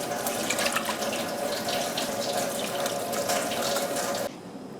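Water runs from a kitchen tap into a pot, a steady close rushing splash that cuts off abruptly near the end.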